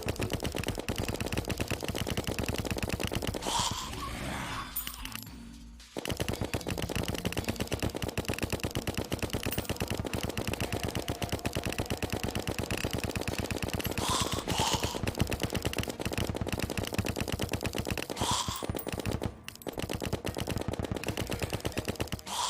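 Nanite bullets fire from a gun in Terraria, a dense, continuous rapid-fire rattle that stays loud nearly throughout, broken by one brief pause near the middle.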